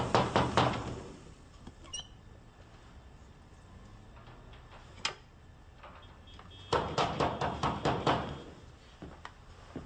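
Repeated knocking on a door comes in two rapid bursts of sharp raps, one at the start and a longer run near the end, with a few isolated knocks between and quiet in the gaps.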